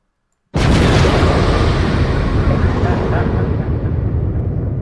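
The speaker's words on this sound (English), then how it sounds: "That's the explosion. You just blew me up, man." A sudden, loud explosion bursts in after a moment of silence and rolls on as a sustained, roaring rumble that slowly fades.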